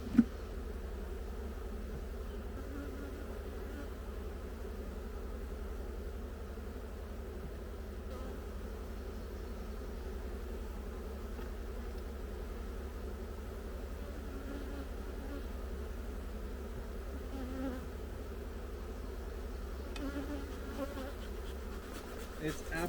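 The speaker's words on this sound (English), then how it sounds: "there's just so many bees, I need them to move." A full hive of bees hums in a constant, even drone, many insects buzzing together close by for the whole stretch, with faint rustling and no voices.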